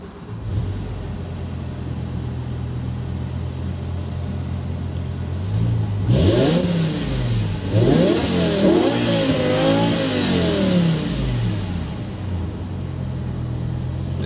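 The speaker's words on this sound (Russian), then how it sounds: "когда мы заводим мотор" A BMW M5 E60 engine idles with a low steady rumble, then is revved hard in several rising and falling bursts before settling back to idle.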